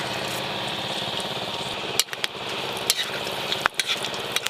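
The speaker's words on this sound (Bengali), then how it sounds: "পোলাও করার জন্য ঘিয়ের উপরে গোটা গরম মশলা তেজপাতা দিয়ে দেবো" Whole garam masala and bay leaves sizzle in hot ghee for pulao, a steady frying hiss broken by sharp clicks and knocks of a spoon against the pan.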